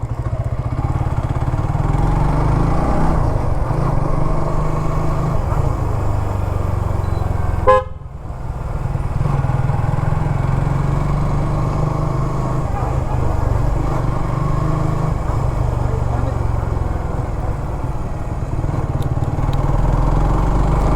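A Suzuki GSX-R150 motorcycle ridden under throttle at dusk, its engine a loud, steady drone heard close for the whole stretch, broken briefly by a short horn toot partway through.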